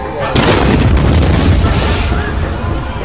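Bomb explosion of the Boston Marathon bombing, a loud sudden boom followed by sustained roaring, crackling noise and crowd commotion for several seconds.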